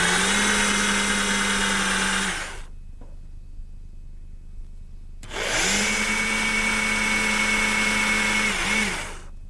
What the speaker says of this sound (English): I'm going to do that using a 1/2 inch brad point bit in my portable drill.